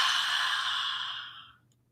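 A soft, slow exhale during a guided breathing exercise, breathy and close, fading away over about a second and a half into near silence.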